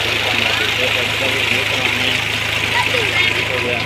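A tractor engine idles steadily at a farm field where water is flowing, a constant low mechanical hum with a faint knock running throughout, loud and close, while voices talk over it.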